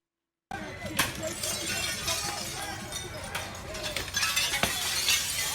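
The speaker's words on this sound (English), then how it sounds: "They are breaking glass, destroying windows." Rioters smash glass windows at a municipal courthouse in Aurora, Colorado, with repeated sharp crashes and shattering through a constant noisy crowd din, voices and commotion throughout.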